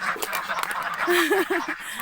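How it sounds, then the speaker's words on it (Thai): Farm ducks quacking nearby in a rural setting, a run of nasal rising quacks in quick succession over steady outdoor background noise, with someone talking faintly. "ก่อนจบเราจะไปดูเป็ด"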